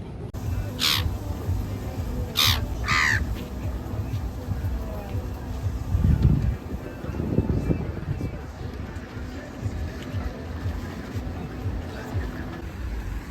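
Calls of a seagull at an outdoor spot, given in a few loud, sharp cries early on over steady background hubbub and faint murmuring voices.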